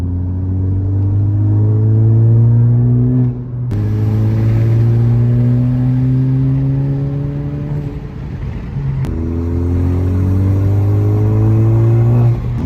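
Tenth-generation Honda Civic driving after an ABS sensor replacement, with a loud, steady engine drone heard from inside the car, rising through the gears with two brief dips at gear changes and some road rumble, and no talk.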